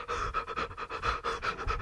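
A person imitates yoga breathing with rapid, rhythmic panting breaths, close and loud, in quick even pulses throughout with no words.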